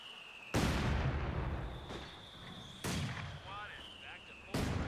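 Mortar shells fire and burst in the World War II strategy game Company of Heroes 2 during a 1v1 match, three loud booming impacts spaced a couple of seconds apart over sustained battle noise and a faint whistle.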